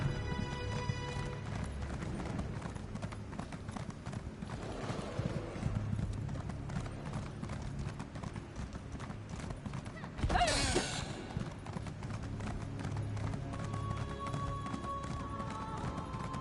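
A horse in Elder Scrolls Online keeps up a steady, rhythmic clip-clop of hooves at moderate loudness, with a brief whinny partway through and faint game ambience underneath.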